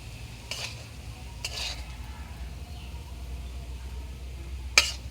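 Small shrimp being stirred and fried for a bhuna, steady low sizzle in the pan broken by a few scraping stirs and a sharp metallic clink, close up with no talking.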